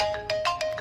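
A mobile phone ringtone plays alone: a short melodic electronic tune of bright beeping notes repeating about every 0.15 seconds, fairly loud and clear, with no talking.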